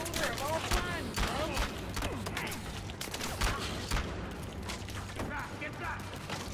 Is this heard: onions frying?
no